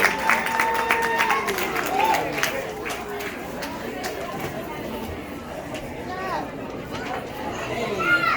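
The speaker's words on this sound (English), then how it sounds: "give them a big round of applause" Applause and crowd chatter fill a 6th grade promotion ceremony, with scattered clapping mixed into a busy hum of voices and movement that stays fairly loud throughout.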